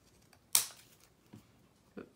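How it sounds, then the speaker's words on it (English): Scissors trimming the edges of a paper craft piece, heard as a single sharp snip followed by two softer, quieter cuts in an otherwise quiet room. "so I'm going to trim this up a little more"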